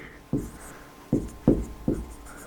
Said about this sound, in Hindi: तो हम यहाँ पर लिखेंगे